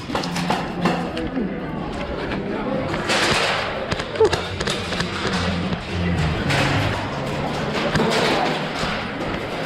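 Airsoft gunfire during a game at an indoor field, with scattered sharp pops and thuds from near and farther away under steady tense talk between players.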